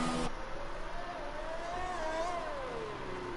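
A racing car in a racing video game drives through the pit exit tunnel in Abu Dhabi, its engine holding a steady whining tone that climbs and wavers slightly as it accelerates, loud and close.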